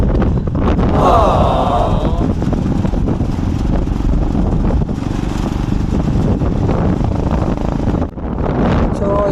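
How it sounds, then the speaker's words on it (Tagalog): Heavy, steady wind roar buffets the microphone throughout a motorcycle ride in the dark, a loud continuous rush over the low rumble of the moving motorcycle. "Lakas-lakas pa ng hangin, ang dilim-dilim pa"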